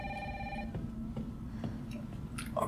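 A telephone rings in the Resident Evil 3 video game, a short repeated electronic bell tone in the first half-second over a low ambient hum, followed by a few faint knocks and clicks.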